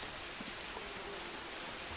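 Steady rain in the video game Green Hell patters in a soft, even hiss throughout, with no voices or other sounds.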